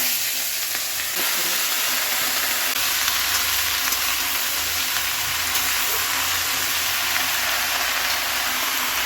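Mixed vegetables fry steadily in a hot pan, a loud continuous sizzle that holds unchanged throughout with no voices.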